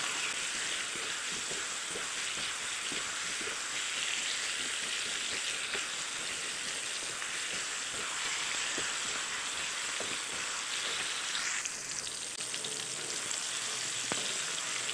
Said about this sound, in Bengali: এনেদৰে আৰু দহ মিনিটমান ভাজি থাকিব লাগিব